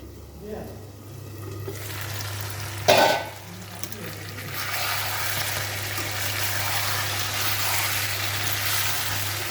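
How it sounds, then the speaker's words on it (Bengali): Meat sizzles and hisses in a home-kitchen pan, with scraping stirs and a sharp clatter about a third of the way through, a steady close frying bed continuing throughout. "দেখো আমি এখন মাংস রান্না করতেছি"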